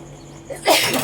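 A single sneeze from someone preparing Thai green papaya salad with bitter eggplant in a home kitchen, a sharp, close burst after faint quiet background.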